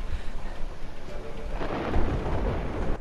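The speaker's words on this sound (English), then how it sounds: "time it with the thunder" Thunder rumbles in the game A Way Out as a continuous broadband roar with rain-like hiss, swelling louder midway and sustained throughout.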